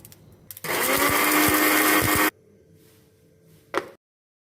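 A loud electric spice grinder whirs for about two seconds while grinding spices for nihari masala, then cuts off abruptly, followed by quieter rattling.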